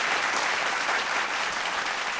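A studio audience at a televised singing competition applauds as a judge is welcomed onto the panel. The applause is a dense, even wash of many hands, steady and fairly loud throughout.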